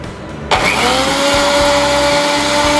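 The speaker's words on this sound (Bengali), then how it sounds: "আমি আদাগুলো এখন ব্লেন্ডারে ব্লেন্ড করব" A kitchen blender whirs up ginger with water, kicking on after a brief quiet start and then running loud and steady at close range, with no talking.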